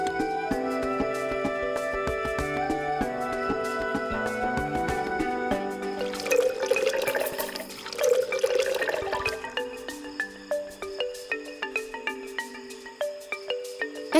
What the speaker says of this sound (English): Better pour some water into the pot next.